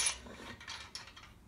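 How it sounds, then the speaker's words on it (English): Bolts for a Land Rover Puma 2.4 TDCi crankshaft drop into their holes, giving a few faint metallic clinks and rattles over a quiet background. "I'm going to drop these bolts in now to make sure they're aligned"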